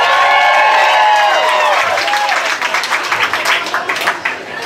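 Comedy club audience at Comedy Works Downtown breaking into loud applause and whoops, dense clapping with cheering voices at the start, then thinning into scattered claps and chatter as the crowd settles.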